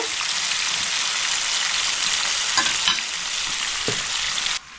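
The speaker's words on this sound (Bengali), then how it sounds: "গ্যাসটা জোরে করেই ভাজবো, লাল লাল করে ভেজে নেব।" Shankar stingray fish pieces frying hard in hot oil over a high gas flame, a steady loud broadband sizzle with a few stirring knocks, close by and with no talk.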